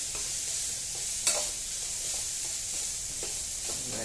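Egg fried rice sizzles in hot oil over a full flame, a steady loud frying hiss with occasional stirring scrapes and no voices.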